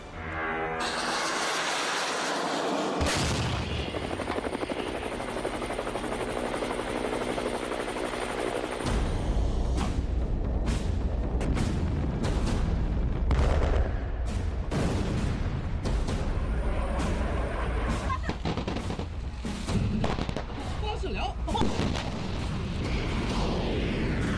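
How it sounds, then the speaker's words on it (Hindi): A dense barrage of loud missile explosions, booms and blasts one after another, rolling over a constant heavy rumble. "ताबड़तोड़ 11 मिसाइल धमाके"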